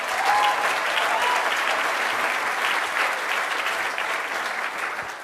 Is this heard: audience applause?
yes